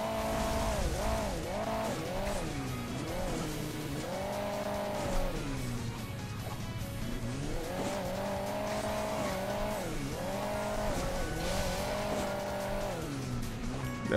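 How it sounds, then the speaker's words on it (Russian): Muscle car engine in Hill Climb Racing 2, a steady loud drone that rises and falls in pitch as the car revs and eases off over the hilly course, continuous throughout with no talk. "Маслкар."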